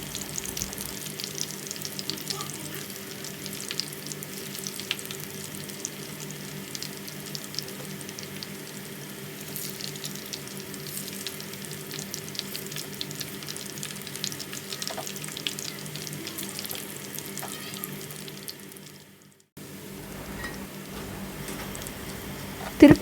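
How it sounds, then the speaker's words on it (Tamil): Fish 65 deep-frying in oil over a medium flame keeps up a steady, moderate sizzle throughout, with a brief drop near the end before the crackle resumes. "நம்ம இன்னொரு பக்கம் திருப்பி விட்டு பொரிச்சு எடுத்துக்கலாம்."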